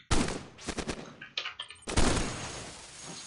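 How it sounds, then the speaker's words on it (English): An assault cannon in a combat video game fires loud, close bursts of rapid shots, with short gaps between volleys and then a sustained roaring stream that slowly fades. "turned on the assault cannon"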